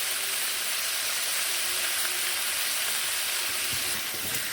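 Pointed gourd and pumpkin pieces frying in a pan with salt and turmeric, giving a steady, close sizzle that holds even throughout with no talking.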